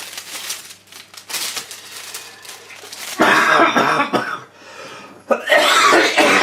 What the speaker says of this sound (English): the coughing is going to continue